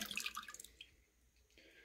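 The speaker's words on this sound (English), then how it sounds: "Now I'm just going to pour the remainder in." Liquid wort with residual yeast poured into a fermenter for a Kolsch beer, a splashing, trickling pour that fades to faint dripping, close and alone with no talk.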